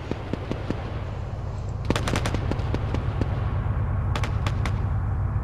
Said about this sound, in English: they're firing on their old position